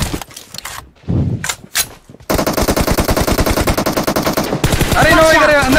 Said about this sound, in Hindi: नाइस शॉट, मार जॉनी, दोनों को मार, दोनों को मार भाई